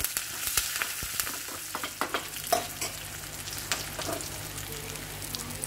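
Onions frying with curry leaves for a breadfruit curry with roasted coconut, a soft steady sizzle broken by frequent spatula stirs and scrapes, close and fairly quiet, with no talk.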